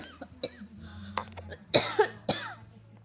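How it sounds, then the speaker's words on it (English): A person coughs several times in quick, sharp bursts, close and fairly loud, with quiet background sounds between them. "Coughing season in California. I know. Everybody get coughing."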